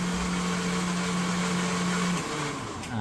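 A mixer grinder blends a banana shake with a steady motor whir that drops in pitch near the end as it slows, heard close up and alone.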